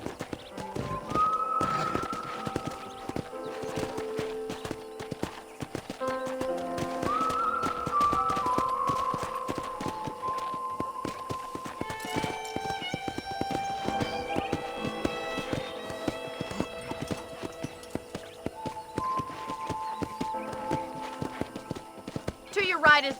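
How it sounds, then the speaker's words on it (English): Rhythmic clip-clop of horse hooves trotting along in the video game Red Dead Redemption, with a whinny and whistled notes over it, as a voice talks intermittently in the background. "let's see if you can still ride a horse"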